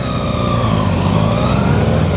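Another car's exhaust roars nearby on a drive to Goodwood, a loud, steady droning note that slowly rises in pitch over road noise.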